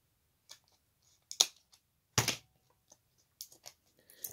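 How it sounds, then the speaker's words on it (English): Scissors snip through tape binding two trading cards together, giving a few sharp, close, isolated clicks and cuts with quiet pauses between them. "we were gonna try to get the scissors in here and separate it."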